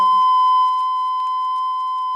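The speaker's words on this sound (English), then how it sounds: "This tone is a test tone," A steady sine wave test tone plays from the back of an LP record, a loud, pure, unbroken pitch that holds for the whole stretch after a brief scrap of sound at the start.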